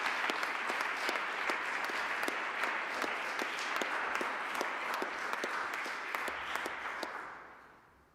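A hall audience at a 2021 FHWien graduation ceremony for executive management claps steadily for a graduate. The dense, even applause holds for several seconds, then fades away to quiet at the end.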